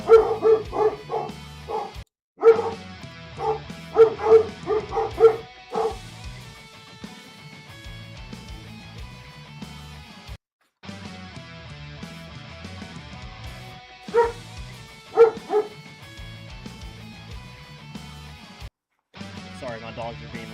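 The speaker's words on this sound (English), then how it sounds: "Sorry, my dogs are being really loud right now." Dogs bark in repeated loud bursts early on, then more sporadically, mixed with steady background sound and a person talking.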